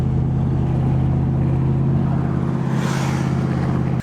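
Steady engine drone from a car running while being towed by a Malibu, a loud continuous low hum that holds even for about four seconds before cutting off abruptly at the end.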